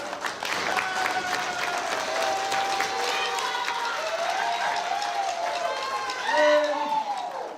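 A school audience at an intermediate school prizegiving applauds and cheers after a house placing is announced, a dense sustained crowd sound with voices calling out, swelling briefly near the end.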